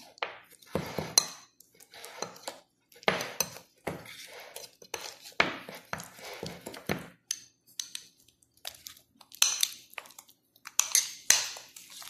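Ingredients are mixed in a bowl with about four tablespoons of vegetable oil, giving intermittent scraping and clinking of a utensil against the bowl in irregular bursts, close and fairly loud, with pauses between strokes.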